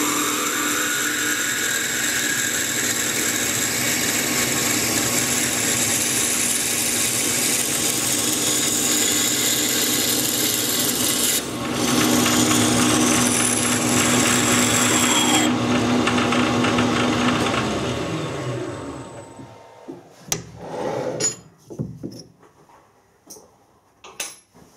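A 7.9 mm drill grinding steadily into metal, loud and close with a whining tone that shifts partway, then winds down into a few scattered clinks.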